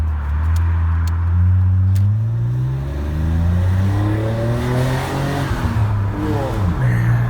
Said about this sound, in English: I really love the sound of straight six engines.